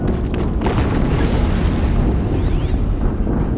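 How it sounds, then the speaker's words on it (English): Explosion in the video game Horizon Zero Dawn: a loud, sustained booming rumble fills the clip without break. A sweeping whine joins near the end. "Another explosion."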